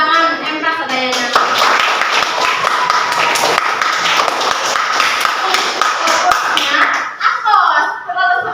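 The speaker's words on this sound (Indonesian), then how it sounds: "Tepuk tangan emprak sadayana." A classroom group bursts into loud, dense applause that lasts several seconds and then fades, with voices chattering just before and after.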